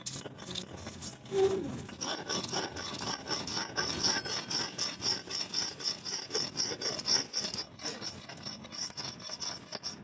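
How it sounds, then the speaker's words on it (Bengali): Chilies being ground on a grinding stone, a steady rhythmic rasping rub that repeats back and forth for several seconds, close and fairly quiet, no talking. "এবার আমি লঙ্কা বেটে নেব।"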